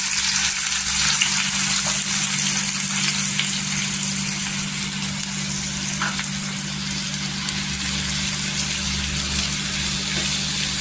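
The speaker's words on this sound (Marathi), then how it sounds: "तेल छान असं गरम झाले, आता कांदा टाकून घ्यायचा" Finely chopped onion hits a spoonful of hot oil in a pan for egg masala and sizzles with a loud, steady, continuous hiss over a low hum. The sound stays even throughout, with no voices.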